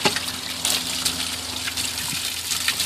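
Water rinsing cleaner off the air conditioner of a Dodge Ram pickup with about 170,000 miles on it, a loud, continuous close-up gush and splatter that runs throughout.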